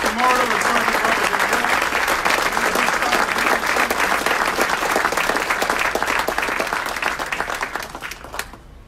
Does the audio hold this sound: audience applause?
yes